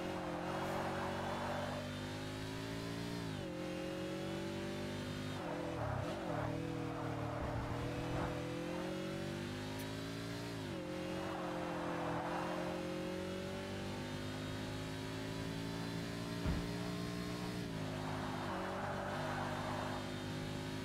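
Race car engines in Forza Motorsport roar steadily throughout, with repeated revving swells and gear changes as the cars drive hard through a pack of rivals in an American muscle challenge.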